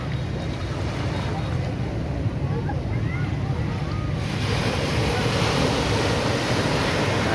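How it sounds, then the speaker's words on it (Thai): Sea waves at Nha Trang beach in Vietnam, a steady broad wash of surf heavily mixed with wind rumble buffeting the microphone, continuous and fairly loud with no clear individual breaks. "คลื่นน้ำทะเล"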